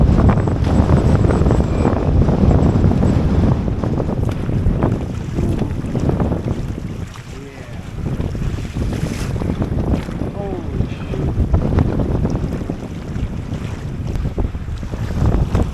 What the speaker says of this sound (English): Honestly, the wind ain't much worse. It's just the waves that are worse.